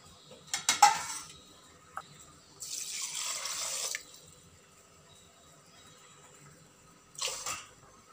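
Water pours in short splashing bursts, three separate pours from a bowl into a pot with quiet clinks and pauses between them.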